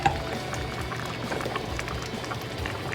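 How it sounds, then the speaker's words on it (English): Champagne peach jam simmers in a pot, thick bubbles popping and gurgling continuously at close range with a soft, even bubbling texture and no talk. "So we're just gonna leave it and let it simmer."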